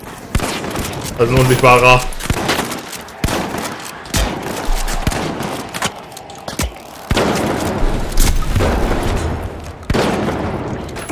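Shotgun fire in The Finals, heard as repeated loud, sharp blasts at irregular intervals amid game effects, with someone talking in German between shots.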